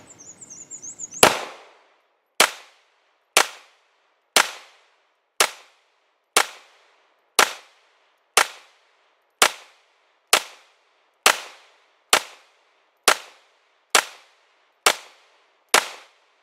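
Springfield Armory XD Mod 2 pistol firing about fourteen sharp, evenly spaced shots, each a loud close crack with a short ringing decay, after a brief quiet rattle at the start.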